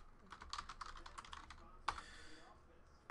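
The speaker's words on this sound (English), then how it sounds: "Let's type in the hits." Typing on a computer keyboard to enter numbers into a random.org field during a sports card box break: quick bursts of light clicky keystrokes, close and moderately quiet, with one sharper key tap near the end.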